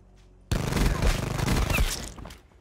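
Dense burst of game gunfire from a Wild Fire Operator mod match, starting abruptly and rattling continuously for about two seconds at close range, with a voice briefly audible underneath.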